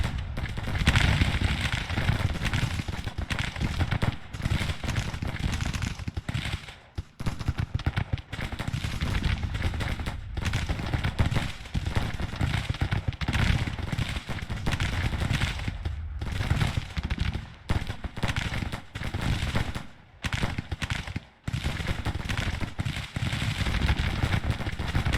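Infantry musket volleys in the Grand Tactician video game: a long, dense crackle of massed rifle fire, loud and continuous with brief lulls, like a distant fusillade rolling on.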